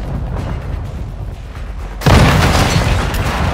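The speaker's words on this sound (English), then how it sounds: "Throw a grenade! Stun grenade" Stun grenade explosion in Call of Duty Modern Warfare II: a low rumble gives way to a sudden loud boom about two seconds in, followed by a sustained harsh roar that fills the rest.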